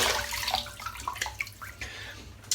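Cold tap water splashes as a face is wetted over a sink before a wet shave, close bursts of running water and hand splashes for a couple of seconds with no talk.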